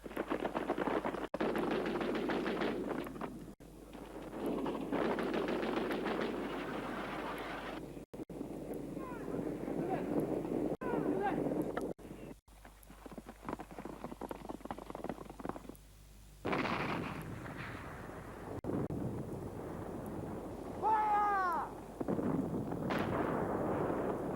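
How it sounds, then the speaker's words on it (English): A cannon fires in several heavy booms amid strong wind rumble and blustery outdoor noise, with brief shouting voices breaking in near the end. "The cannon will get them."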